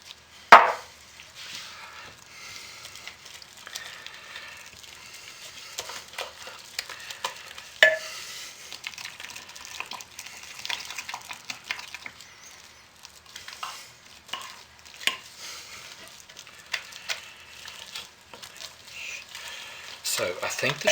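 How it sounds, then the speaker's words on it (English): Hot process camouflage soap being stirred in a pot, quiet irregular scraping and thick, soft stirring sounds with occasional sharp clinks against the pot. "Get the last of this in, stir the rest of it, and let's get this in the mold."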